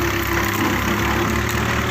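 Komatsu PC160-8 excavator engine running steadily at a loud, close idle-to-mid rumble while pushing over a large sugar palm, a continuous heavy diesel drone with no voices.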